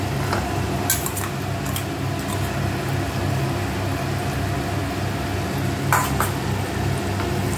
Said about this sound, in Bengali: রসুনটাকে ভালো করে ফ্রাই করে নিচ্ছি।